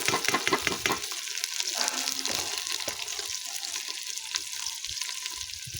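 Okra sizzling in hot oil, village-style Pakistani cooking: a loud, constant hiss and crackle from the first moment, with some denser popping near the start, close up and without any talk.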